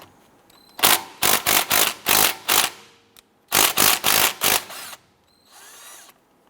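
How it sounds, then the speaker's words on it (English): Power impact tool with a 14mm socket buzzing off brake caliper bolts on a 2007-2012 Nissan Versa, two groups of rapid hammering bursts separated by a short pause, close and loud. "Using our 14mm socket here, we want to go ahead and remove the two caliper bolts."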